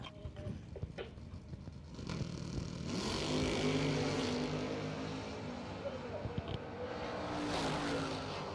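An 89 Camaro and the Flame Nova drag racing down a strip, their engines building into a sustained loud roar that holds through most of the clip, with no talk over it.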